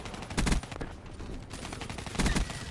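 Rapid bursts of sniper gunfire in the Black Ops 3 video game, two loud clusters of shots with quieter game noise between them, no talk.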